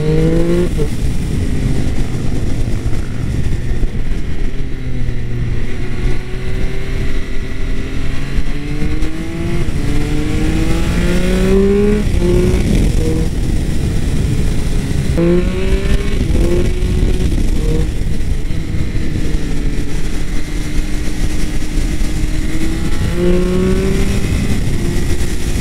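A Triumph Speed Triple 1200 RS motorcycle pulls hard through the gears without the clutch, its engine note rising repeatedly in loud, close sweeps, with a brief dip between each shift.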